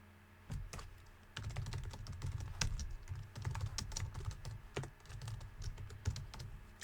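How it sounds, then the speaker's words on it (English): Rapid typing on a computer keyboard while working on a personal website, continuous irregular key clicks and thumps, close and steady for several seconds with no talk. "Let me make sure that I'm typing that correctly."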